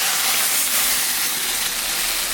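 A spinach and fish curry, made with a green chili, hisses loudly and steadily in the pan right after a little water goes in. The broad sizzle stays close and constant, with no speech.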